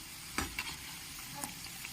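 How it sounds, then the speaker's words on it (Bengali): Khaja pastries fry in hot oil until deep red, a steady soft sizzle with a few sharp stirring clicks and scrapes over it. "একদম লাল করে ভেজে নেব"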